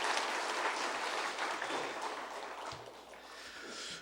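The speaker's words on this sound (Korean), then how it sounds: "우리 직장 선교팀 한 번 더 박수 좀 드릴까요?" Congregation applauding the workplace mission team at a citywide Christian mission rally in a church, a dense, steady wash of many hands clapping that fades slightly toward the end.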